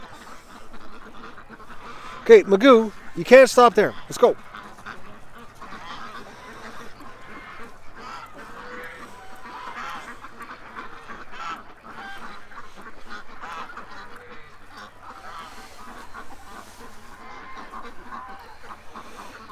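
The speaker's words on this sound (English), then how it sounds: "Come on, little ducks, let's go." A burst of loud honking quacks from ducks outdoors in the cold, including one named Magoo, then quieter scattered quacking and bird chatter continue under a voice speaking.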